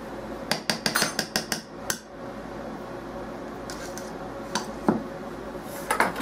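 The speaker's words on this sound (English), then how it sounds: "she's going to switch over to the whisk" A whisk beats meatloaf mixture in a bowl with a quick run of sharp metallic clinks, then a pause and a few scattered taps, all close and fairly faint.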